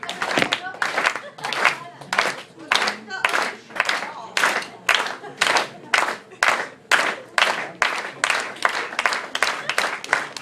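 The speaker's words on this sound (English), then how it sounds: "That turned into a fast clap." An audience at a standup comedy show claps in unison, beginning with slow, widely spaced claps that gradually quicken into a faster rhythm, with loud, sharp, evenly timed bursts and a little talk mixed in.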